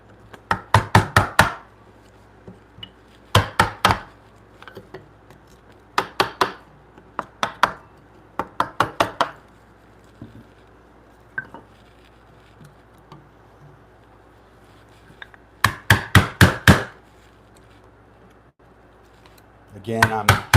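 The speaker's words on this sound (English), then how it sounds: "I'm using this very fine chisel here to punch holes in material that's going to be tricky and difficult to get out." Fine chisel tapped repeatedly to punch holes in wood in a woodshop: sharp, crisp clusters of three or four quick knocks, close and loud, separated by short pauses.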